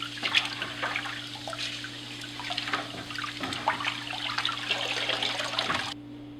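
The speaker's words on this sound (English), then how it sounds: "I just swish that around in my bucket of plants" Aquarium filter media is swished around in a bucket of water during a water change on a 5-gallon tank. Steady close sloshing and trickling runs throughout, with no voices, and stops abruptly at the end.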